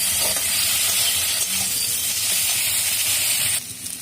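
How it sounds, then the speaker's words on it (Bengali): Onions and spices fry in a pan for a bottle gourd and prawn dish, a loud continuous hiss with faint stirring clicks that drops off sharply near the end. "পেঁয়াজটা একটু ভাজা হোক আর মশলাটাও তখন কষা হয়ে যাবে"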